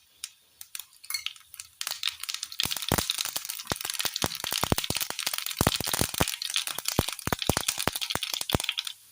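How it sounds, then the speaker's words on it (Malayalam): Mustard seeds crackle and pop in hot coconut oil in a pan, starting as a few scattered snaps and building into a dense, loud run of sharp crackles that continues to the end. "ചൂടായ എണ്ണയിലേക്ക് കടുകിട്ട് കൊടുക്കാം."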